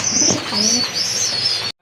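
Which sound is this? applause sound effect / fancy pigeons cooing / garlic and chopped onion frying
fancy pigeons cooing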